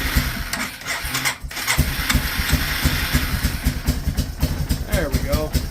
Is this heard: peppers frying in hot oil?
no